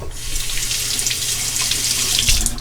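Water pours steadily from a tap into a sink while a safety razor is rinsed mid-shave, close, continuous and without talking.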